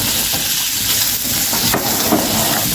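Carrots and onions stir-fry over a very hot fire, a steady broadband sizzle and hiss with occasional scraping stirs, close and fairly loud throughout, no voices.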